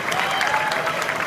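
An audience at a leadership luncheon in Salt Lake City gives a brief burst of steady, dense applause.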